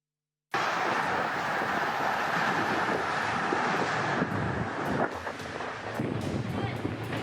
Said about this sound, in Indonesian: angin kencang menerjang kawasan Tiban, Batam, Kepulauan Riau, Senin siang